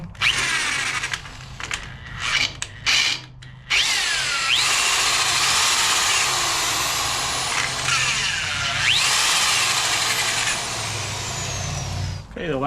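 A power drill bores a hole with a 1/2 inch bit, the motor whining steadily across most of the stretch after a few short starting bursts, loud and close.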